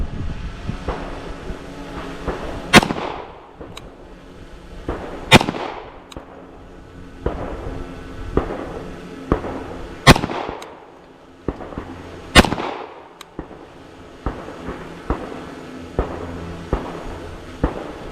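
A CZ P-10 F optics-ready .45 pistol fires at a target 10 yards away, giving four loud, sharp reports at uneven intervals with fainter clicks and handling noises between them and no talking.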